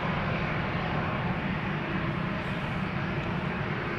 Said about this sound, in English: 787-10 Dreamliner.